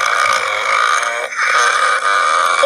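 A single long, droning burp from a submitted recording for a burping challenge, loud and close, rolling on for nearly three seconds with a brief catch in the middle.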